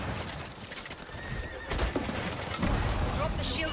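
A horse neighs in the video game Highguard amid battle, a shrill whinny rising over hoofbeats and bursts of gunfire in a noisy, chaotic mix.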